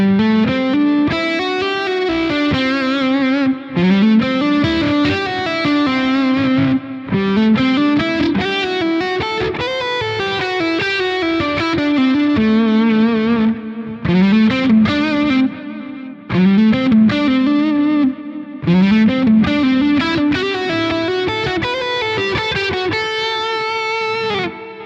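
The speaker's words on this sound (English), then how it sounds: "here's a lick to practice at home." Electric guitar runs a Dorian-mode lick through distortion and chorus effects, with fast phrases bending and sliding, brief pauses between runs, and sound held steady and loud throughout with no speech.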